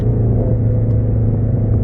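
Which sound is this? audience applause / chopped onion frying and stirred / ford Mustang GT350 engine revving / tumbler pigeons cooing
ford Mustang GT350 engine revving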